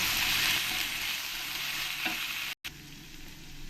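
Katla fish with turmeric, salt, ground coriander and cumin fries in a pan with a loud, steady crackling sizzle and light stirring, cut by a brief silent gap before the frying resumes more quietly.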